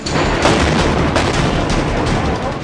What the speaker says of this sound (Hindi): एक धमाका होता है और पूरा अफगानिस्तान थर्रा जाता है।